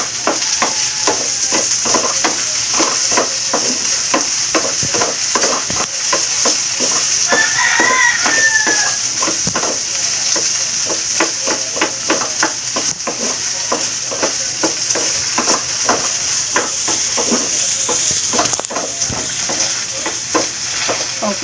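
Garlic and onion frying in a pan with a steady loud sizzle and crackle, broken by frequent stirring scrapes, while a rooster crows once faintly in the background.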